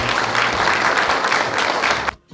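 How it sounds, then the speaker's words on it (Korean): Loud applause from an audience at a youth political debate festival, a dense, even clapping roar that cuts off abruptly near the end, followed by a brief hush. "다 같이 크게 한번 박수치고 힘내시다"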